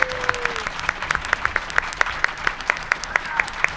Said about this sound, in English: I think they really deserve a round of applause